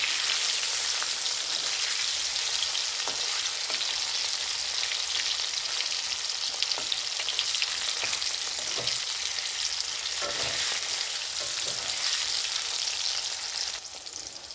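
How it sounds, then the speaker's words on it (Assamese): Paneer pieces frying in a pan give a steady, dense crackling sizzle like rain, with a few faint stirring taps, before the sound eases slightly at the end. "মোৰ পনীৰখিনি ফ্ৰাই কৰা হৈ গৈছে"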